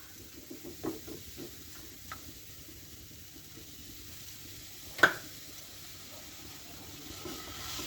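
Grated coconut is stirred in a pan, giving soft, quiet scraping and shuffling with a few light knocks and one sharper clink partway through, heard alone without talk.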